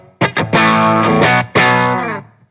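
An electric guitar with a clean tone runs through a Divided by 13 RSA 31 amp, an AC30-style amp set around 2, playing a few plucked notes and then ringing chords that sustain and fade.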